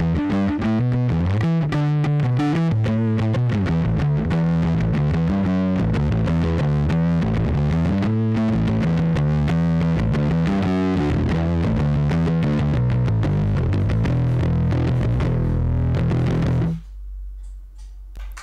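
A 1970 Fender Precision bass played through distortion and overdrive, its thick, fuzzy low riff driving steadily and loudly for about seventeen seconds before cutting off to a faint tail.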